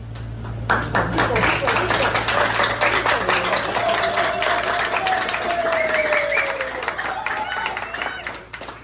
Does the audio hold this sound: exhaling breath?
no